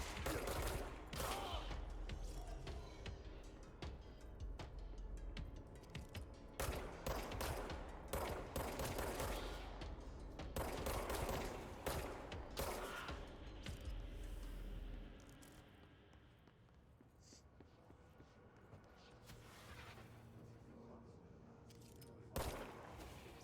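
Repeated bursts of automatic gunfire from the video game Control, loud and close in clustered volleys through most of the stretch, thinning to quieter scattered shots and ambient noise near the end.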